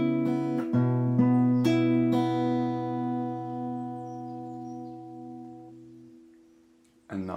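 Fingerpicked acoustic guitar in standard tuning plays the opening pattern of a song, several plucked notes ringing out and decaying, close and unaccompanied, then a fresh attack at the very end.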